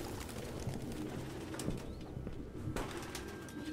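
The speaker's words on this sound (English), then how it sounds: "No human could live with all these fucking pigeons." Pigeons cooing in the Detroit: Become Human video game, soft low coos scattered through a steady indoor room ambience, with occasional faint wing flutters and no voices.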